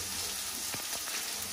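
Onions frying in hot oil for an Indian tadka, a steady bright sizzle with a few soft stirring clicks and a sharper crackle near the end, close and alone.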